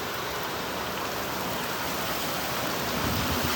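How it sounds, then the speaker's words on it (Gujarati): A heavy downpour of rain pours down in a dense, steady hiss that stays even throughout, with no voices over it. "કેવો વરસાદ આવે છે ધોધમાર વરસાદ"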